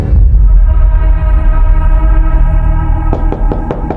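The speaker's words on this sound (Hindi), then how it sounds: "आलिया, दरवाजा खोलो।" Knocking on a closed door in a Hindi crime drama scene: a few sharp raps arrive near the end, partly masked by a loud, steady musical drone.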